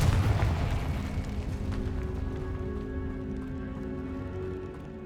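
Confringo blasting spell in the video game Hogwarts Legacy: a heavy booming explosion at the start that rolls away into a fading, crackling rumble with a low lingering hum.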